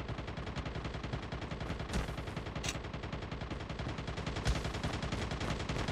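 Dense rapid automatic gunfire from a Call of Duty Zombies game, a loud, continuous stream of shots with a few heavier bursts, and no talking.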